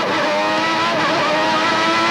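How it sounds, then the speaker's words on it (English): McLaren Formula 1 race car at the 1990 Australian Grand Prix in Adelaide, powering away with a loud, sustained high-revving engine scream that holds steady and close throughout. "Now watch the McLaren power away."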